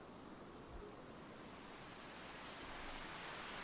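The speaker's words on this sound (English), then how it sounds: "Sounds like a little bit of rain." Steady rain in the farming game Farming Simulator 25 hisses as a dense, even wash of noise, constant and fairly loud with no voices over it.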